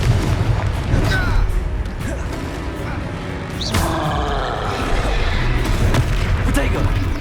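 Blasting-spell explosions from the Hogwarts Legacy video game on PS5, booming bursts recurring over several seconds amid a dense, continuous game soundscape with a voice speaking over it.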